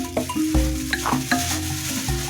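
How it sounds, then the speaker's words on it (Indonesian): Catfish frying in hot oil, a steady close sizzle with stirring and scraping sounds over it and a low hum running underneath. "Lele digoreng hiji nya"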